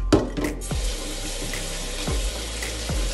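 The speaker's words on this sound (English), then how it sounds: "you wash the rice under cold water" Jasmine rice is rinsed under a running cold kitchen tap, giving a steady close splash of flowing water with a few sharper sloshes as the grains are stirred.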